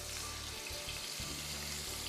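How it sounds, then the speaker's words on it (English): Onions, tomatoes and bell peppers sizzle in a pan for a Turkish-style brunch dish, giving a soft, continuous crackling hiss with faint low clatter, heard alone at low volume. "listen to that sizzle, and it smells so good"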